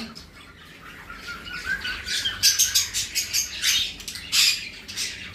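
Budgies, cockatiels and conures in a breeding aviary, a busy overlapping chorus of chirps and squawks rising and falling, fairly close and continuous without any voices.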